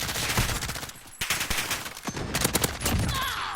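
M13 rifle fire in Call of Duty Modern Warfare crackles in rapid automatic bursts, dense and close, with a brief pause before the shooting resumes.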